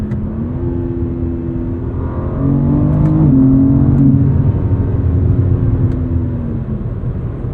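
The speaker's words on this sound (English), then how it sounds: "especially with the engine in Sport Plus mode and the exhaust valve open" A 2023 BMW M4 CSL's engine roars at full throttle in Sport Plus mode with the exhaust valve open, the exhaust note climbing through gears with rising and falling pitch, loud and close.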